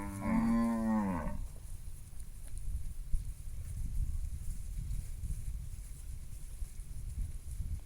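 Cattle on a farm, a herd that includes a calf, cow and bull, lets out one loud, low moo at the start, followed by steady rumbling outdoor background noise.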